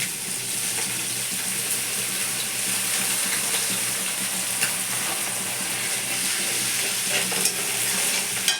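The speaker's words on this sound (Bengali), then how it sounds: "ভালো করে মশলাটাকে ভেজে নিই" Spice paste fries with sour yogurt in a pan for pomfret curry, giving a dense, continuous loud sizzle with faint stirring scrapes throughout and no speech.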